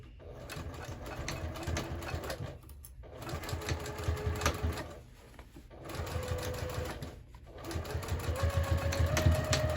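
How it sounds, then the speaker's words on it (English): A sewing machine back-stitches on a crossbody bag, running in several close bursts of rapid needle clatter separated by brief pauses, the motor pitch rising slightly in the later runs. "Again, go slow, back stitch a few times."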